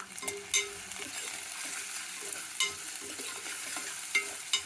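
Capsicum and potato fry in an open pan for a paneer curry, a steady soft sizzle with a few sharper scraping clicks from stirring, fairly quiet and close, with no talk.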